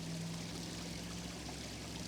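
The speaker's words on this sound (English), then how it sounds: "as the water starts to roll down, the white water comes down" Water rolling down a garden waterfall, a steady, faint broadband rush of white noise with a low background hum, continuous and unbroken throughout.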